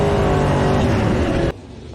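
Race cars on a speedway roar close and loud in a sustained high-revving engine drone that cuts off abruptly partway through, leaving a quieter background rumble.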